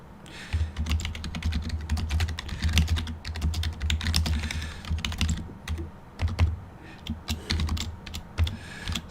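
Fingers type on a computer keyboard in rapid, irregular bursts of clicks over roughly nine seconds, close and fairly loud, with a low hum underneath and brief pauses between runs.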